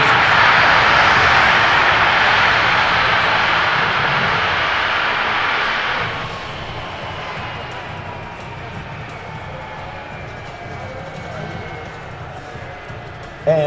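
A C-17 Globemaster III backing under its own power on a taxiway at an air show, its engines a loud, steady broad roar that drops noticeably in level partway through and continues more softly, with a brief sharper burst at the very end.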